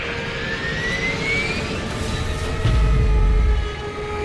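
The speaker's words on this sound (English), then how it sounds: "The C-130 is nice flying." A C-130 transport plane flies overhead in Left 4 Dead 2, a steady droning engine whine with a slowly rising tone, joined near the end by a deeper low rumble, no voices.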